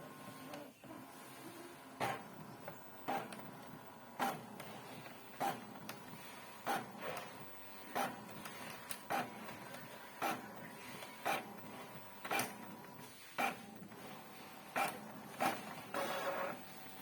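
An Epson L5190 printer works through a copy, with a steady mechanical hum broken by about a dozen sharp, evenly spaced clacks and feed sounds, close and alone.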